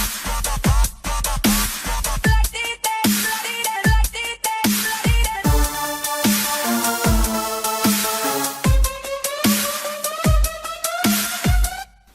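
A pop loop built in BandLab, with a punchy beat pounding steadily throughout, a deep bass, chopped vocal snippets, a bright synth lead and swelling effects layered on top, loud and dense with no talking.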